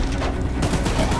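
Dense, continuous burst of gunfire from the horror video game Choo Choo Charles, rattling steadily at close range for about a second with no pauses.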